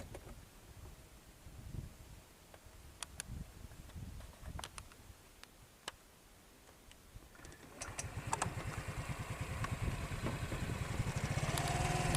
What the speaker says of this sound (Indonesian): kita akan jalan pakai motor ya